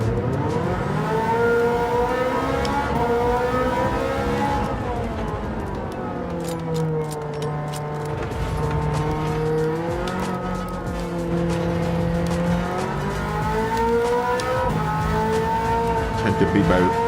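Ferrari F40 race car in Gran Turismo 7 revving and shifting through gears, engine pitch rising and falling in sweeps with some tire squeal, heard under voices talking.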